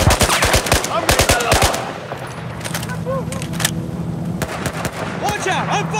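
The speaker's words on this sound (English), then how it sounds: "Watch out! I'm firing! Firing now!" Rapid bursts of machine gun fire from the Battlefield 4 video game, loud and close, firing in clustered volleys with short pauses, spoken lines from a player heard between bursts.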